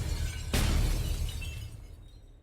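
Glass shatters abruptly in a puzzle video game: one loud, bright crash cuts through a steady low game rumble, then its sparkling tail fades over about two seconds. No one speaks.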